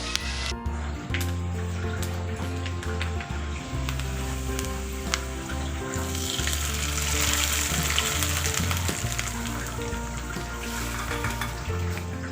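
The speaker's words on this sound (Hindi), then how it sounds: "इसका तड़का लगाना है।" Steady crackling sizzle of spices and 5 to 6 whole chillies frying in hot oil for a saag tempering, close and continuous, with faint clinks and background noise.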